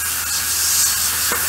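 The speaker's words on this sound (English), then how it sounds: "when I'm spraying tight patterns like that, like you're doing now" An airbrush sprays paint onto a model German WWII Sd.Kfz.251 halftrack, giving a steady, close airy hiss that holds evenly for the whole moment.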